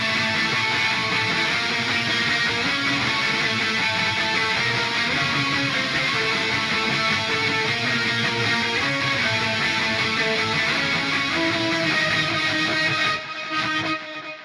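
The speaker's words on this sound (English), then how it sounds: "I had an ambient lead pad tone" Ambient lead pad tone on electric guitar through the Neural DSP Archetype Misha Mansoor plugin, a sustained, washy, effects-heavy layer with shifting notes that plays steadily, then glitches and cuts off near the end.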